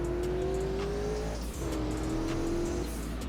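Lotus sports car engine revving in the Greenville driving game, a steady loud droning rise with a brief dip midway, continuous and close, no voices.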